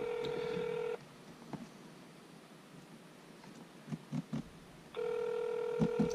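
Telephone keypad tones beep on a speakerphone, with a steady dial tone at the start and again at the end and a run of short dialing beeps in between, close and clear with some light rustling.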